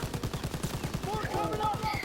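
Rapid bursts of gunfire in Call of Duty: WWII rattle in a fast, regular rhythm, with electronic effects and whooshes layered over the shooting.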